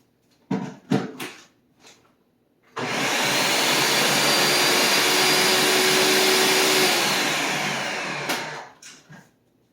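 A countertop blender whirs at full speed through a pear bulgogi marinade, loud and steady for several seconds, starting abruptly after a few knocks and clatters and winding down at the end.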